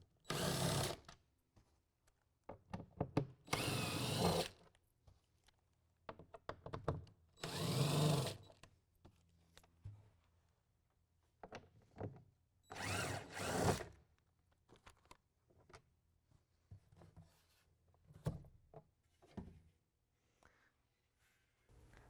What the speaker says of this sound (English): We're going to use a T30 Torx bit to take out the bolts.